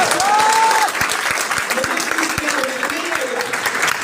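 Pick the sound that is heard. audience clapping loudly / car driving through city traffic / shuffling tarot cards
audience clapping loudly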